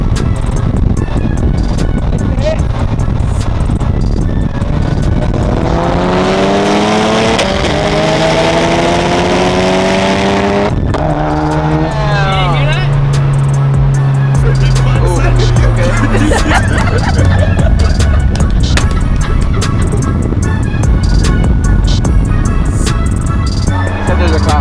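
Cars street racing from a roll, engines roaring loudly and revving up through rising pitch sweeps as they pull hard, with wind rush and people talking excitedly over the noise throughout.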